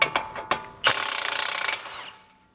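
Ratchet clicking on a 21 mm bolt on a car's front lower rearward suspension arm: a few sharp separate clicks, then a rapid close burst of ratcheting about a second long that fades out.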